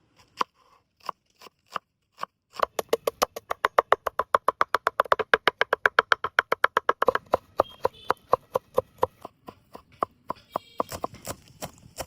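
Onion, ginger, green chilli, coriander leaves and garlic are chopped finely with a knife on a board: slow separate chops speed up into a long rapid run of crisp, close strikes, then slow again.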